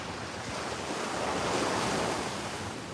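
Ocean surf washing steadily against the shore, a broad continuous rush of breaking waves that swells slightly midway, with wind noise buffeting the microphone and no voices.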